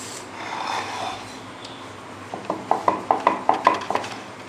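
Chapati dough is rolled out on a board, first a soft low rubbing, then a rhythmic run of about eight knocking clacks from the rolling pin, close and clear with no talking.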